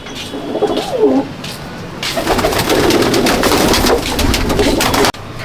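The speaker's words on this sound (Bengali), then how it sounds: "এটা বহুত পুরনো পায়রা, এর বয়স অনেক হয়েছে।" A very old pigeon, around ten to twelve years, coos in a loft in Jangipur, Murshidabad: close, loud rolling coos repeating one after another, with a burst of wing flutter and loft noise partway through.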